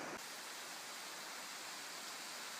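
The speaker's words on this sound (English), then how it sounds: "I think we call this a weir" Water pours steadily over a river weir at Felin Newydd Falls, a continuous broadband rushing roar that stays close and even throughout, with no voices.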